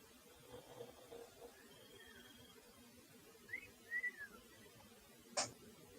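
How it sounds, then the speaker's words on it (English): Faint, thin whistles drift in, a few short gliding notes scattered over quiet background hiss, followed by a brief sharp sound. "I hear a whistle."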